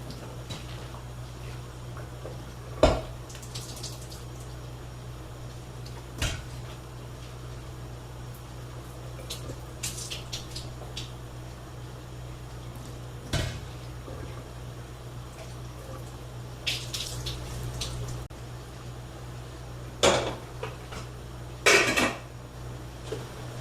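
Boiling water poured from pots over a kitchen countertop for kashering, heard as a low steady hum with scattered clinks and knocks of metal pots and faint splashing, sharper clanks near the middle and end, no talking.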